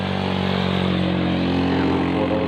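Motorcycle engine drones steadily and close while riding a road past rice fields in Umingan, Pangasinan, a constant loud hum with no break and no talking.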